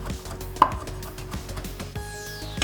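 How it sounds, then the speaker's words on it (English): A kitchen knife rough-chops fresh cilantro on a cutting board for shrimp tacos, giving a run of regular, crisp taps close by with no voices. "I have here some fresh cilantro, and it's going to be a rough chop"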